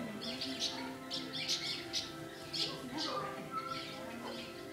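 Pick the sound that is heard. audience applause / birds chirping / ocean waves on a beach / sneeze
birds chirping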